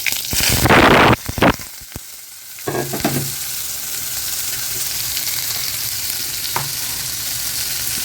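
Onions, green chilies and curry leaves drop into hot oil with a loud burst of sizzling that settles into a steady crackling fry, with occasional stirring clatter.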